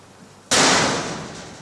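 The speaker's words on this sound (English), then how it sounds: "Sorry about the bang, that was my shed door." A shed door bangs once, a sudden sharp loud crack that rings out and slowly fades with a broad rattling tail, close by.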